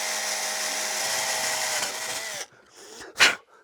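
Steady high-pitched whine of a small power drill boring holes in a vulture bone flute, running loud and continuous for over two seconds before stopping, followed by faint handling noises and one brief sharp burst.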